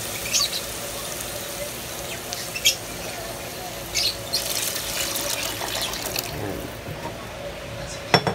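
Water pours into a cooking pot for chicken sotanghon soup, a continuous close splashing trickle with a few brighter splashes and clinks, and a voice talks faintly in the background.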